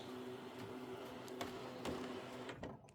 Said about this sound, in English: So scan the mat really quickly.